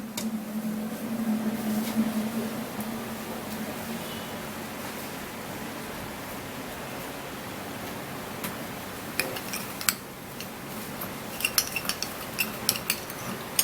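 A spoon stirs a lemon juice mixture in a bowl, with soft scraping at first and then scattered light metallic clinks and taps against the bowl, close but fairly quiet, with a faint hum beneath and no talking.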